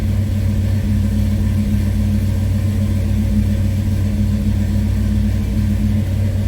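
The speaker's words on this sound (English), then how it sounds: "So kind of a high idle right now." A 1966 Ford Mustang engine running at a high cold idle, a loud, steady, low rumbling drone with an even hum and no revving, heard alone.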